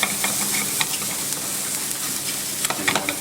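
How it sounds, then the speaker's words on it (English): Onion, garlic and sliced mushrooms frying in olive oil in a pan, a close, lively sizzle with scattered crackles and pops over a steady hiss, no one talking. "you want to cook this out until the mushrooms are just a little bit soft"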